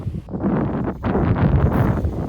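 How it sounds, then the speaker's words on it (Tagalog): Strong typhoon wind gusting across a campsite, a loud roaring rush buffeting the microphone with rustling, surging and easing briefly before building again. "Matapos pala mag-setup ng Mama Rino, hindi pa rin tumigil ang malakas na hangin."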